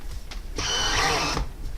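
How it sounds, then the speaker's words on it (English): A power drill spins up and runs in one steady whine for just under a second, close and loud, then stops in a quiet room. "we're just going to go ahead and drill this."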